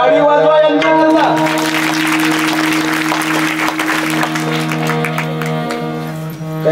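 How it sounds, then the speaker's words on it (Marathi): A crowd claps steadily and fairly loudly at a kirtan during a Harinam saptah gathering in Nimbhora, layered over sustained harmonium-like drones and music throughout. "टाळी वाजवा यांच्याकरता."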